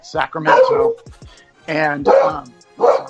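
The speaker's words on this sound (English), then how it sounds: "that's my dog" A pet dog barks in short bursts close to the microphone, a few loud barks with gaps between them, while someone talks over the noise.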